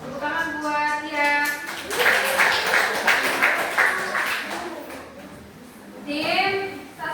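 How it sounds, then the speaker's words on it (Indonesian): Students in a high-school classroom clap for a quiz group, a burst of scattered clapping and cheering in the middle, with a teacher talking before and after. "Tepuk tangan buat ya."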